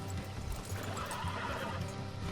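Horse neighing in the video game Red Dead Redemption 2, a drawn-out whinny mixed with hoof clip-clop over a dense, loud game soundscape with a steady low rumble.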